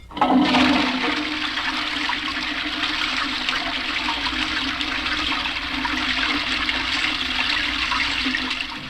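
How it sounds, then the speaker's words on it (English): A toilet flushes loudly as a radio sound effect, an initial rushing gush settling into a steady, continuous swirl and trickle of water that runs for nearly nine seconds without any voices. "welcome to Queen Victoria's water closet"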